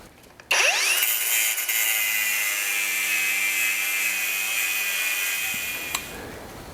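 Angle grinder cutting through a seized, mushroomed bolt on a 1939 Hudson, a loud sustained high-pitched whine that starts abruptly, grinds steadily for about five seconds and then spins down.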